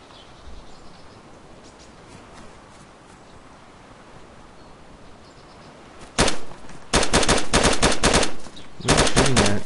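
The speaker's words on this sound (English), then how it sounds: "What are you shooting at?" Bursts of rapid automatic gunfire in the DayZ video game, loud and close, starting after several seconds of quiet ambient noise and repeating in two or three sustained volleys.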